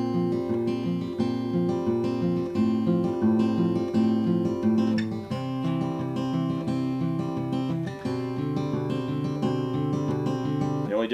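Fingerstyle acoustic guitar plays the bridge of Train's "Marry Me", a steady picked chord pattern with ringing harmonic notes, close and clear, with no voices.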